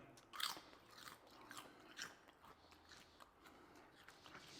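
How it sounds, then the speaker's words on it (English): Crisp crunching and chewing of potato chips, with a sharp bite followed by softer, irregular crunches up close. "is the microphone picking up the crunching, the chewing?"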